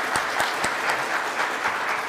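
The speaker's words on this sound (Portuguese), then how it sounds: "Peço uma salva de palmas para ele." An audience at a securitization business talk applauds to welcome a speaker, with dense, steady clapping from a full room and a few sharper nearby claps standing out.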